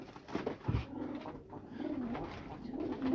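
Pigeon cooing in a loft, a few soft low throaty coos at close range over quiet background hiss, with short pauses between calls.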